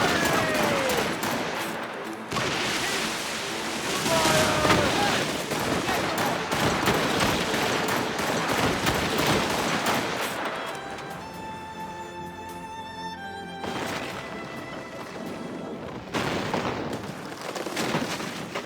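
Enemy gunfire rages in a naval battle in Assassin's Creed Rogue, dense overlapping volleys and booming cannon-like shots for most of the stretch, with a shouted voice and tonal music coming through as the firing thins out.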